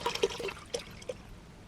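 Water poured from a half-full bottle into a jellyfish tank, heard as a few close, soft splashes and trickles in uneven bursts before it trails off.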